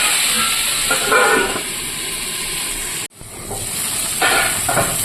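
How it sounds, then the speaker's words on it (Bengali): Greens with onion and garlic sizzle in a hot pan, a loud steady hiss close by with brief stirring bursts and a momentary dip partway through, no one speaking. "পেঁয়াজ রসুন দিয়ে দিয়েছি আমি এবার একটু ভেজে ভেজে ভেজে নেব"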